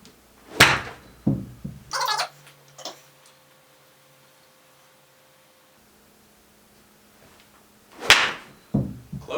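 Golf swings during a lesson: two sharp, loud whooshing strikes of a club through the ball, spaced several seconds apart, with quieter thuds and near silence between them and no talking.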